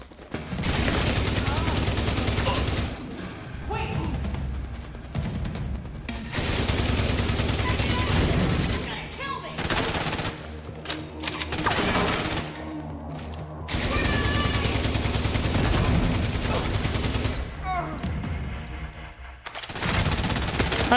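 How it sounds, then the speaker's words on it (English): A light machine gun blazes in The Division in several long, loud bursts separated by short pauses, each a dense, continuous rattle of shots. "If I'm not using my shield at the moment, then why not use the LMG?"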